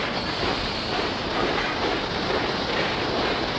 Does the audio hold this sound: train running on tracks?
yes